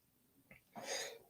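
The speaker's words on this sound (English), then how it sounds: "But I had to sneeze." A single person sneezes after a short sharp intake of breath, a brief breathy burst near the end, heard alone at moderate volume.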